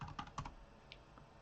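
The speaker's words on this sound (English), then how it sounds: "let's type this in" Someone types a search on a computer keyboard, a quick close cluster of soft key clicks in the first half second, then a couple of faint isolated taps, quiet with no speech.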